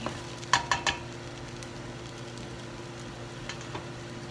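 Broccoli added to a pan of cooked onion, a few clattering knocks as it drops in, then a steady low sizzle of frying.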